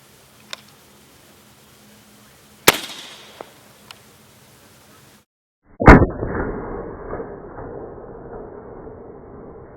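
Remington 220 grain subsonic 300 AAC Blackout rounds fired, a sharp crack followed by a louder, fuller report with a lingering rumbling tail, shot outdoors at a watermelon target.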